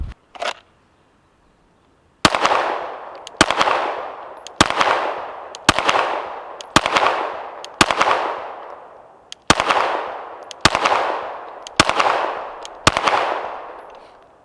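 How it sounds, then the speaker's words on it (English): Loud, close pistol shots from a Glock 19 Gen 5 fitted with a Tyrant CNC threaded barrel, about eleven sharp reports fired at a steady pace after a short pause, each with a decaying echo, no talking. "We'll load up some more loads and do some more shooting here."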